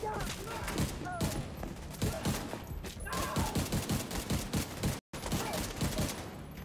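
Repeated close gunfire bursts in The Division 2, including shotgun blasts, crack in quick succession through a dense, busy game mix, with a voice talking over the action.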